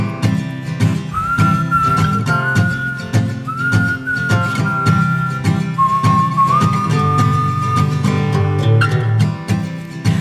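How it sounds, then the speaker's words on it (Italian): An old man whistling a tune, a clear melodic whistle in sustained held notes with small slides, heard over a steady background music bed. "ma nonno cominciò a fischiettare"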